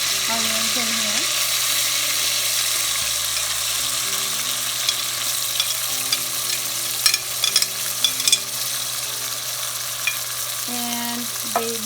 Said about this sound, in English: So now we're gonna put garlic. We will also put our onions in here.